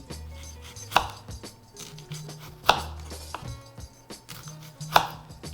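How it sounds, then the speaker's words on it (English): Chef's knife chopping thinly through red onion on a cutting board, close up, with sharp distinct impacts at an irregular pace plus softer board taps and blade scrapes between them. "Some red onion. Just going to slice these nice and thin."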